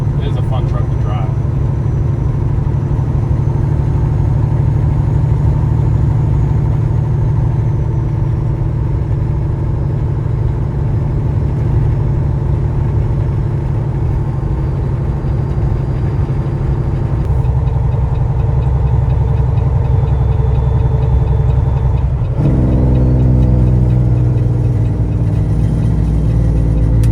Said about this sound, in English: I'm kind of like really digging driving this truck right now.